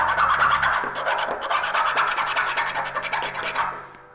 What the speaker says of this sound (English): Oh, better file that nub off.